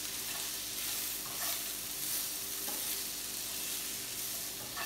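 Potatoes coated in spices for jeera aloo sauté in a pan with a loud, dense continuous sizzle and scraping stir noises, close and alone with no talk.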